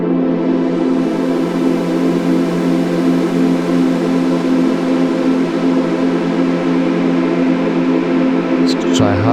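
A Waldorf Protein synthesizer drones with distortion, a dense, loud, hissy sustained tone that stays constant throughout with no other sounds.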